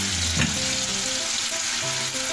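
Oil and melted butter sizzling in a pan as pulao cooking begins, a loud, constant close frying hiss with a brief knock of utensils early on and no talking.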